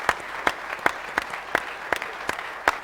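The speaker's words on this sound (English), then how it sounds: "could we just give you a really strong round of applause?" Sparse, sharp claps from a plenary audience acknowledging standing youth activists, a few distinct hand strikes landing at a loose, uneven rhythm over a quiet room.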